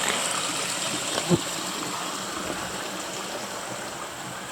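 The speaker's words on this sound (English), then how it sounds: "Here's Trout Brook." Trout Brook, a flowing stream on a backpacking trail, gives a steady close rush and babble of water, with a brief knock partway through and no voices.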